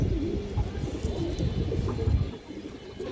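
Pigeons, fresh healthy birds kept among fancy breeds such as highflyers, cooing in low, soft, throaty rolls through the first two and a half seconds, close and fairly steady, then fading toward the end.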